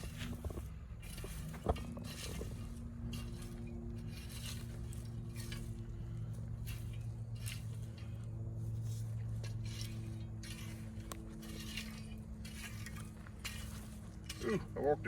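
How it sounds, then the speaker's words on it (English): Scraping a residue off a hard surface, heard as a steady rasping scrape with scattered clinks and knocks, continuing for most of the stretch at close range over a low background hum. "So I'll finish scraping that off."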